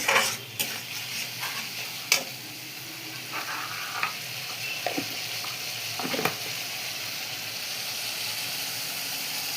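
A masala paste with turmeric and a splash of water fries in a pan for aloo dum, a constant sizzle broken by sharp scraping strokes of a spatula as it is stirred.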